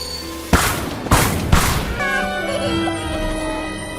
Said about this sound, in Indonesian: Kemudian Naki membuat kembang api sehingga Kotake menjadi senang.